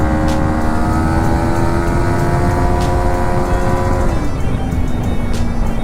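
A Yamaha MT-15 motorcycle rides along a small road, its engine droning loudly and steadily at a high pitch before easing down, with constant wind and road rumble close to the rider.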